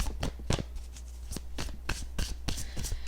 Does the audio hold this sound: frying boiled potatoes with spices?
no